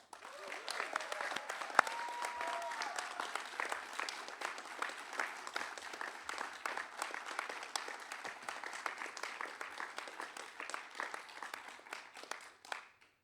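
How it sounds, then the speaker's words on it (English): Ceremony audience applauds Coast Guard Bosun Mate A School graduates, a long, moderately distant round of clapping with individual claps audible, slowly thinning toward the end, a voice briefly heard early on. "Would you please join me in a round of applause for the graduates of Bosun Mate A School A-RAP 2406"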